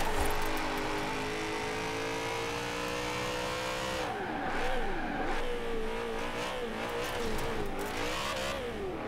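A BMW's engine in third gear in Forza Horizon 4, a loud, steady drone that holds pitch, then wavers up and down through cornering with faint tire squeal, no voices.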